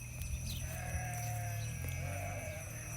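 A flock of sheep grazes in tall May grass on Sardinia, with several drawn-out bleats overlapping against a steady outdoor background. Some calls sound close and others farther off.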